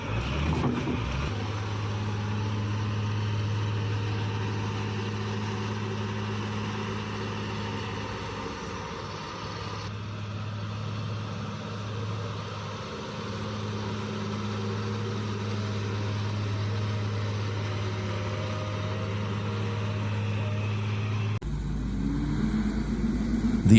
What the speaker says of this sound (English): the loader roared to life, driving raw force into the truck